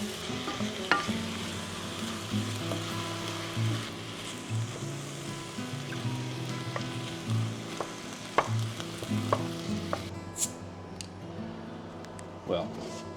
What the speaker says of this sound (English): You literally just keep chopping at the meat, just get it all browned off, just so it seals.